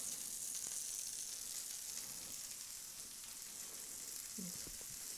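Chicken marsala frying in oil in a pan, giving a steady, close hiss of sizzling that runs unbroken throughout with a faint low clunk near the end.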